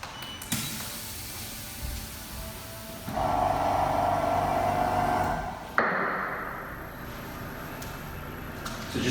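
A Power Plate vibration training machine runs for a few seconds with a steady, buzzing mid-pitched drone over low rumble, then cuts off abruptly. No speech.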